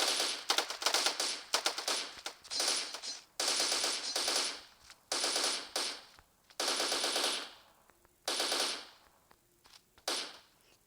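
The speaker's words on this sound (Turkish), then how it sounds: "buradan makine tüfekleri giriyorum" A machine gun fires in the shooter game Special Force Group 2, loud rapid bursts of automatic fire in about ten separate volleys, each lasting around a second, with short pauses between.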